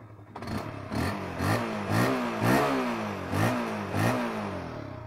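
A Honda CB150R motorcycle engine revs up and down in repeated surges, about five swelling throttle blips close by with a steady idle underneath.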